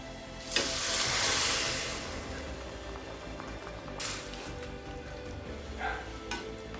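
Boiled peas tipped into a hot pan of sundal masala, giving a loud burst of sizzling steam that settles into a steady hiss with a few scraping stirs and spoon clinks.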